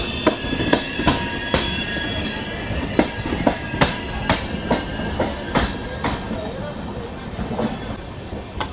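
The crowded Ratnachal express braking on the rails, with regularly spaced heavy wheel clacks over joints under a steady rolling rumble and a faint high metallic whine, heard up close.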